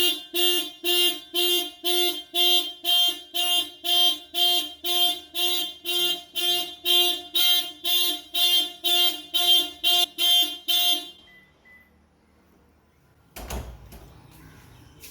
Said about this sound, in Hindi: तो ये है आपकी गाड़ी का अलार्म सिस्टम